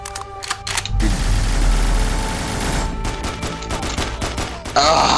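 Rapid automatic gunfire rings out in a Half-Life 2 Deathmatch game, with sustained loud bursts and scattered single shots against game ambience.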